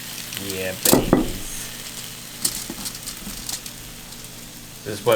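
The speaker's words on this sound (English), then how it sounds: "This is what preheating the pan will do. You want to hear that sizzling sound." Food hits a preheated pan and sizzles loudly, a steady frying hiss with brief louder bursts near the start and end, under and between bits of talk.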